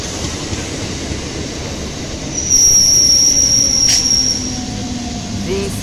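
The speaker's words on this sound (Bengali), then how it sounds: "Bandel Howrah local from Bandel to Howrah is arriving on platform." A Bandel–Howrah local train arrives at platform 2 of Chandannagar railway station, its wheels rumbling steadily before a loud, sustained high-pitched squeal rings out as it brakes, close and alone.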